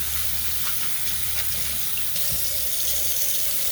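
Hot water runs steadily from a tap over a loofah being squeezed of pulp, a constant close splashing rush with no talk.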